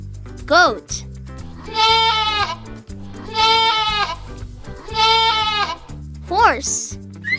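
Goat bleating in three drawn-out, trembling cries spaced about a second and a half apart, loud over bright children's music, with short spoken words at the beginning and end.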